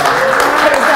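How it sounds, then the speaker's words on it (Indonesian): Loud, dense applause from an audience at a hotel event, a continuous close wash of clapping with some voices mixed in. "Tepuk tangan dulu."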